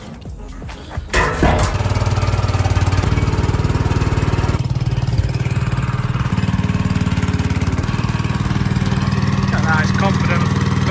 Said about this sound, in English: Let's see how Connor gets on with the dumper. Getting that down the little slope.